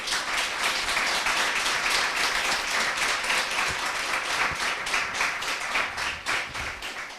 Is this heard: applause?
yes